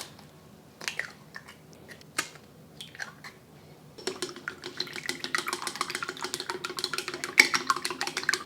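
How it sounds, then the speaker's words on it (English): Three large eggs lightly beaten in a bowl. A few separate taps and scrapes come first, then continuous quick, wet whisking strokes close by at moderate loudness, with no talking. "I have 3 large eggs that I'm going to lightly beat"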